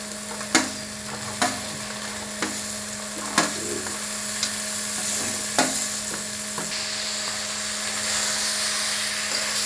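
Prawns stir-fried in a spice paste for Bengali chingri posto hiss with a constant sizzle, punctuated by regular sharp clanks of a spatula against the pan about once a second.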